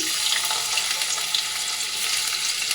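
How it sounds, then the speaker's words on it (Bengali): Chopped ginger frying in hot white oil in a kadai, a steady, close, hissing sizzle with a faint bubbling texture and no voices. "কড়াইতে সাদা তেল দিয়ে দেবো তেলটা গরম হয়ে গেছে তেলের মধ্যে দেবো"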